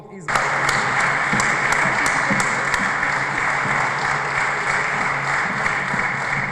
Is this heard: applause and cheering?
yes